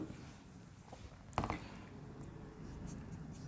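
A teacher writing out a partial derivative math example, faint quiet scratching strokes broken by one sharper tap midway, with no talking.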